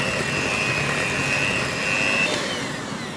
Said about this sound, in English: At this stage you're still whisking in more air until it's nice and smooth.